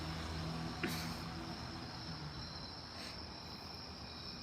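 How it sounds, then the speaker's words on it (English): A steady, high-pitched drone of crickets chirping continuously, with a faint low rumble in the background and no voices. "hearing the crickets literally like calms me down."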